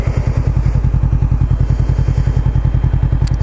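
A motorcycle ridden in slow figure eights around a parking lot gives a loud, close, rhythmic engine thump that pulses evenly throughout with no break.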